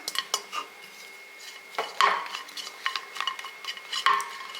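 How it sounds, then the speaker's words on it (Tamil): Tamarind dry roasting in an empty pan gives off repeated scraping and clinking stir strokes of metal against the pan, fairly close, with a faint sizzle underneath and no talking. "அதை வெறும் சட்டியில் போட்டு நம்ம வறுத்துக்கலாம்"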